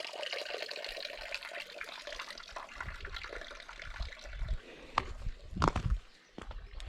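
A small trickle of water running over stones near the medieval village of Banduxo in Asturias, Spain: a faint, continuous babble with a few soft knocks and thumps near the end.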